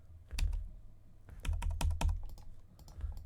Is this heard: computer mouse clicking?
yes